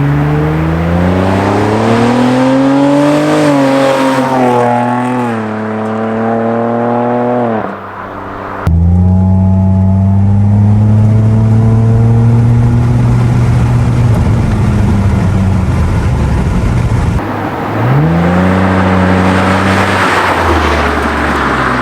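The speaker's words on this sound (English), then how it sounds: "Let's get some exhaust clips for you guys." A Nissan Maxima's engine revving repeatedly through an aftermarket exhaust, rising and falling through the gears with loud exhaust roar and brief drops between pulls.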